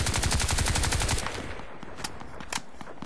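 Rapid automatic assault rifle fire in a first-person shooter video game, a loud, fast stream of shots for about a second, followed by a few scattered single shots and impacts fading into game ambience.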